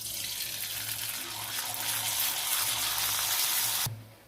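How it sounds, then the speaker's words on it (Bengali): Sago papad hitting hot oil in a pan, a loud steady bubbling sizzle that roars for about four seconds and then cuts off abruptly. "তেলটা গরম হয়ে গেছে, এবার পাঁপড়টা দিয়ে দেবো।"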